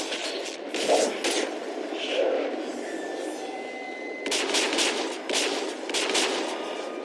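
Bursts of gunfire in the Mass Effect 3 Earth finale battle come in clustered volleys, loud and dense, with sharp cracks in the second half over a continuous rumbling battle background.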